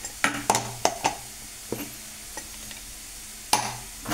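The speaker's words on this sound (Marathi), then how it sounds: "थोडंसं मीठ टाकलं आहे मी त्याच्यात, म्हणजे बटाटा लवकर शिजतो तेलात." Potatoes frying in oil in a pan for sabudana khichdi, with sharp, irregular spatula scrapes and taps against the pan over a low, quiet sizzle.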